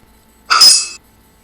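A monster death sound effect from a homemade game, a single short breathy burst lasting about half a second over near silence.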